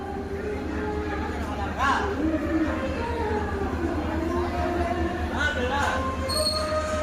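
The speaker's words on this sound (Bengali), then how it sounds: "22856 তিরুপতি সাঁতরাগাছি এক্সপ্রেস।" Interior of the Tirupati–Santragachi Express, train 22856, standing at a platform: a steady low rumble and hum of the train and station, with faint voices and a few brief higher squeals or tones over it.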